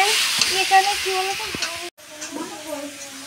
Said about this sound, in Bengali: তো গাইজ আমাদের মাংস রান্না হচ্ছে এখন, দেখতে পাচ্ছ।